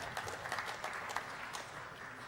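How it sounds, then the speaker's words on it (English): A crowd applauds with steady, fairly quiet clapping, and scattered sharper claps stand out from the dense patter throughout. "give them a round of applause, people"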